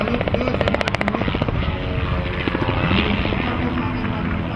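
A helicopter flies at an air show in Buzău, Romania, with steady rotor chop and engine roar, loud and close throughout, the thudding blade beat most distinct early on.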